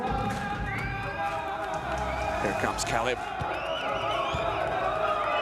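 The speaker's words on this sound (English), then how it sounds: "And you hear the crowd." Crowd noise at a Games of the Future 2024 basketball-style game: a continuous roar of spectators with whistles and shouts rising near the middle, while a commentator talks over it.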